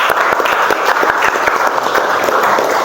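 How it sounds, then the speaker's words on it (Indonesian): Dense, loud applause from a class audience in an automotive engineering lesson, many hands clapping steadily and close up for a few seconds without a break. "kasih tepuk tangan dulu untuknya"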